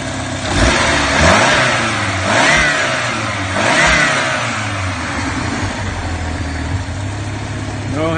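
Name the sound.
race car engine running and revving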